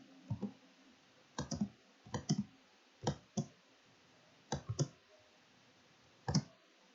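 Computer keyboard keys pressed and released in small clusters of sharp, close clicks, separated by brief pauses, with no speech.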